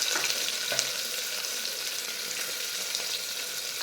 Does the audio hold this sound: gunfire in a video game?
no